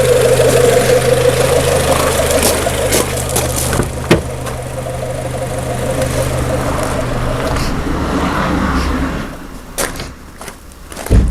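A car engine idles with a steady low rumble, interrupted by a few sharp knocks and clatters before it cuts out near the end.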